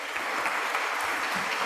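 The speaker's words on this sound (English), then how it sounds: "So give a round of applause." Applause from the audience at a meeting with a foreign press journalist, a broad continuous clatter of many hands, steady and fairly loud throughout.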